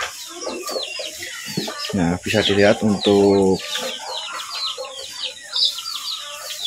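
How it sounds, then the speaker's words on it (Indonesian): Several chickens cluck nearby on a cattle and chicken farm, with a louder burst of drawn-out calls in the middle, while a person talks briefly. "Ini ayamnya sangat banyak sekali."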